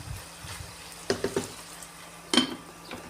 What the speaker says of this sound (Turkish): Şimdi kendi yağında kavruluyor.